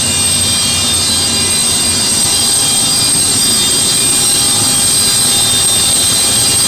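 Antonov aircraft at Houston's IAH airport with all its power units running, a loud continuous engine roar and high whine, steady and close throughout.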